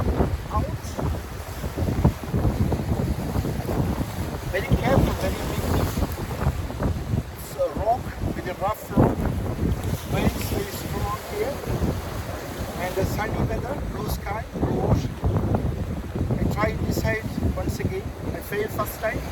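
Strong wind gusting across rough rock outdoors in hot weather, a loud continuous roar buffeting the microphone throughout while a person talks over it.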